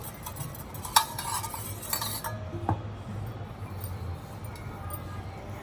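Oil is spread around the inside of a pressure cooker pot to grease it for an eggless vanilla sponge cake, giving soft scraping and a few light metallic clinks over a quiet, close background.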